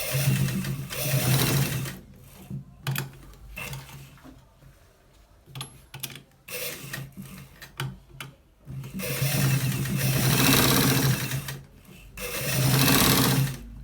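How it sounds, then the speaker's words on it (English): A sewing machine stitches a shirt collar in loud, close bursts of rapid mechanical whirring. Short pauses and quieter gaps break up the runs, with no speech. "we are stitching it where I showed you that we are going to stitch it."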